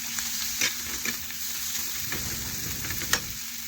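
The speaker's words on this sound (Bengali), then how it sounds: "এখন একসাথে ভালোভাবে একটু মিশিয়ে নিলাম।" Chopped tomato and cumin powder frying in a pan while being stirred, a dense steady sizzle broken by a few soft spoon scrapes, close and fairly loud with no talking.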